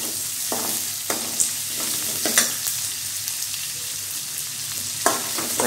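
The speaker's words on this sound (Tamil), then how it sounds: "வெங்காயம் போட்டு நல்லா வணக்கிக்கோங்க" Sliced onions frying in a pan while being stirred, a steady close sizzle with repeated scraping stir strokes, no talk.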